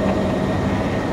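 A helicopter in flight gives a steady, droning engine hum with a low rumble and a constant whine, continuous and fairly loud throughout the brief moment.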